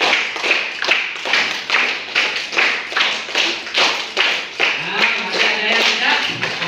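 A class of students claps together in a tight rhythm, repeating a pattern of five quick claps in grouped bursts, loud and close, with faint voices mixed in.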